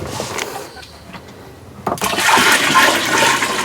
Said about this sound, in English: Now I just want to pour my back set in.